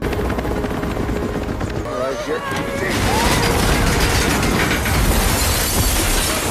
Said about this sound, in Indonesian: helikopter itu rusak